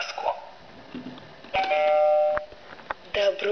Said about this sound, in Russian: Позвони в колокольчик и открой дверь в сказку.